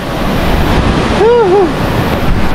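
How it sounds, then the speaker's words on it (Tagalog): Steady rushing roar of Nangoloan Falls, a waterfall in Zambales, heard close and loud with wind buffeting the microphone. A voice briefly speaks over the water. "Ayun na yung isang falls."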